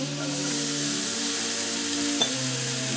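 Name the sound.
chives sizzling in melted butter in a pan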